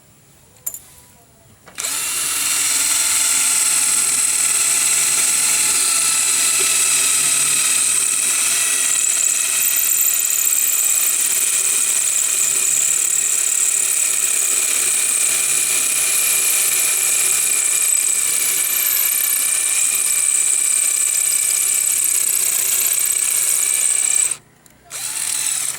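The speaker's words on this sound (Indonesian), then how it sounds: "Kita bor ya, ini untuk contoh ya, sini saya bor sini." A power drill whines loudly and steadily for about twenty seconds, drilling bolt holes while mounting a satellite dish antenna, starting and stopping abruptly, close to the microphone.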